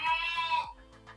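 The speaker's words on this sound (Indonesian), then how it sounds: "Ini anakan domba Garut yang kembar waktu itu." Newborn twin Garut sheep lambs bleat in a farm pen, a couple of close, strained calls with rising harmonics, followed by softer fainter bleats.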